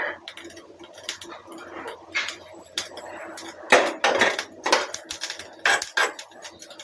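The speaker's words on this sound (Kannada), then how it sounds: "ಪಟ ಸೌಂಡ್ ಕೇಳಿಸ್ತಾ ಇದೆ" Mustard seeds spluttering in hot oil while being fried for rasam, with a dense run of sharp, irregular crackles and pops close by, some louder bursts toward the end.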